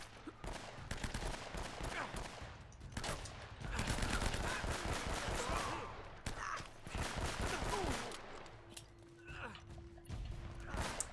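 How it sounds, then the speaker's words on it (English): Gunfire in the game Uncharted: Drake's Fortune comes in repeated rapid bursts of shots, loud and close, separated by short gaps of quieter ambience. "now we'll just shoot our way through this"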